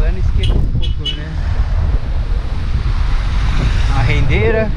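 Strong wind gusting by the Lagoa da Conceição lagoon, a loud, constant rushing buffet of low roar with microphone wind noise, faint distant voices briefly audible.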